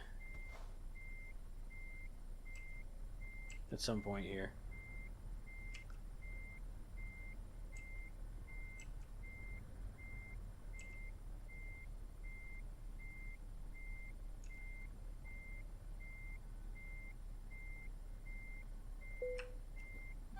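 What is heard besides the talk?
low air pressure warning beep in Euro Truck Simulator 2 video game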